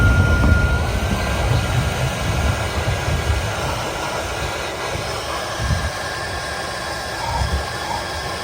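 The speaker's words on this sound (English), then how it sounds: "So I figured the little battery powered blower probably did a better job because it didn't blow it at such a velocity" A small battery-powered blower blowing oil out of the injector pockets on a Ford F550's 7.3L Powerstroke, a steady airy whoosh with low rumbling bursts, moderately loud and continuous without talk.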